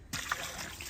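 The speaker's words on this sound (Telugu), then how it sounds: "అయితే ఇప్పుడు వాటర్ ఓపెన్ చేయబోతున్నాం." Water trickles and splashes steadily from the drain of a fish tub, beginning abruptly and continuing close by without any voices.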